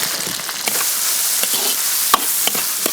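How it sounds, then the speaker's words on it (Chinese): Beef stir-frying in a wok with light and dark soy sauce, oyster sauce and shiitake mushrooms, a steady close sizzle broken by sharp spatula scrapes and clinks against the pan, with no talk. "牛肉炒起，来点生抽、老抽，蚝油， 先放香菇"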